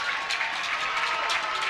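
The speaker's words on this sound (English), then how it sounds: "And the crowd gives her a big hand." Crowd at a college softball game between Michigan and Michigan State applauds a single to left, a short burst of clapping that rises and falls slightly, heard faintly from a distance.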